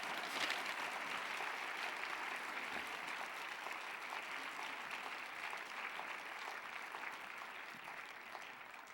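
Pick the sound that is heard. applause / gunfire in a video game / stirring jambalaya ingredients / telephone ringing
applause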